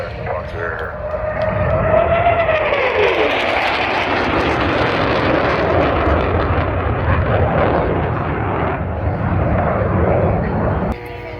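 F/A-18 Hornet jets roar past at an airshow with a loud, sustained rumbling jet noise that swells and holds for several seconds before cutting off, and an announcer's voice sits under it.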